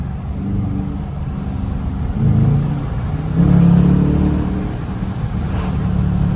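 A stock 2021 Dodge Challenger R/T's engine and exhaust give a deep, steady rumble that swells twice, briefly around two seconds and more strongly near three and a half seconds, before settling back to a loud idle-like drone.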